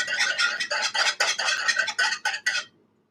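Quick rhythmic whisking of milk and eggs in a pan, a steady run of bright scraping clinks that stops abruptly near the end.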